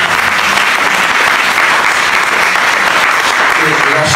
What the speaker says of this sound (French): Amen, on peut applaudir au Seigneur.